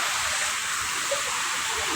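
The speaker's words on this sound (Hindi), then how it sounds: "ये झरना लगा हुआ है।" Steady, dense rush of falling water in a park, a constant roaring hiss with no break, during rainy weather.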